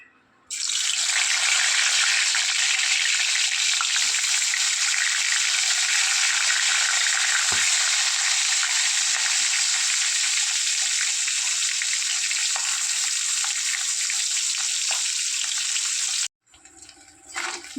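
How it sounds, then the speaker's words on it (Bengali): Fish heads frying in hot oil in a wok give a loud, steady, close-up sizzling hiss that holds for about sixteen seconds and then cuts off abruptly. "এরপর আমি মাছের মাথাগুলো ভাজার জন্য দিয়ে দেব।"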